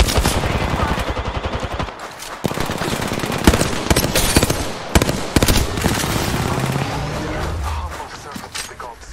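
Rapid automatic gunfire in an Apex Legends match, loud close bursts with short pauses between strings of shots, and a voice speaks briefly over the shooting.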